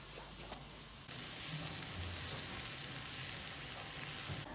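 Garlic sizzles in olive oil in a pan, a steady loud hiss that jumps up suddenly after a quieter opening and holds evenly to the end.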